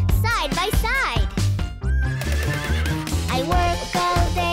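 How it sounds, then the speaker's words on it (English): A horse whinnying in a children's pretend-play cowboy song, with repeated high wavering neighs set among music and singing voices, loud and close. "Saddle up your horse, let's ride."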